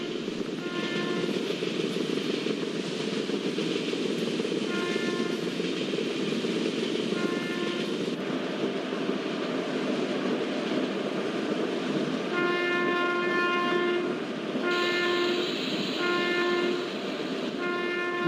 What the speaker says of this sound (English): enjoy the beautiful LHP track sound.